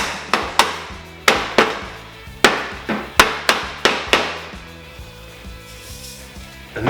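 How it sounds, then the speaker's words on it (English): A hammer taps a baffle and insulation into a shorty muffler for a Maxim XJ650 cafe racer motorcycle, about ten sharp ringing metallic strikes in uneven clusters, close and loud, then a quieter pause. "Tap the hammer."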